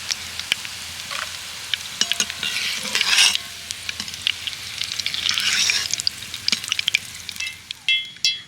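Semolina pulao ingredients fry in hot oil with a continuous crackling sizzle that swells at times. Scattered clicks and utensil knocks come through, and there is no talking.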